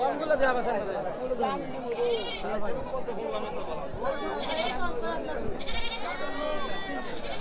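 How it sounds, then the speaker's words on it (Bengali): Native goats and sheep bleating at a rural livestock market by a ferry ghat in Sherpur, with repeated wavering calls amid constant crowd chatter and nearby talking. "এই পাশে দেশি ছাগল রয়েছে আর এই পাশে রয়েছে ভেড়া"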